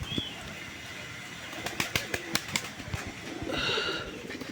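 Deshi Raj Golla pigeons stir outdoors in the morning: a quick run of wing flaps and short bursts, with a brief chirpy call at the end over a steady background.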